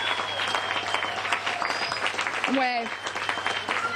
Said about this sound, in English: she deserves one more huge round of applause